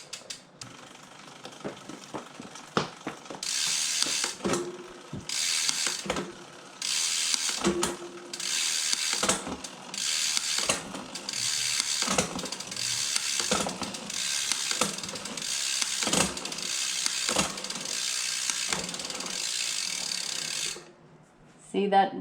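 A bicycle rear derailleur shifts through its gears after a cable tension adjustment on an older chain and cable setup, giving repeated ratcheting clicks and whirring drivetrain bursts at close range, alone without talk.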